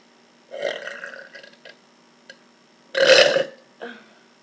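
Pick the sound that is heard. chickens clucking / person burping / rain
person burping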